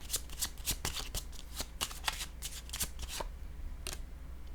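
A deck of tarot cards shuffled briskly by hand, with repeated crisp flicking and riffling bursts in a steady rhythm, close and fairly loud, without speech.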